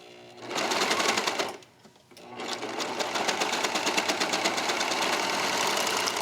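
A sewing machine stitching a small sleeve cuff, bursts of rapid rhythmic needle clatter with a brief stop and restart after the first burst, then a longer steady run, close and prominent.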